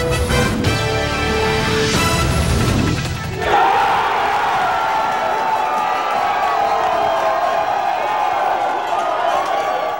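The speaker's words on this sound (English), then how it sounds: "Fans cheering on the U.S. underdogs all over Tucson today" Crowd of US soccer fans in Tucson cheering and shouting for the American team against Ghana, a loud roar that drops briefly at about three seconds, then rises again and holds as steady crowd noise.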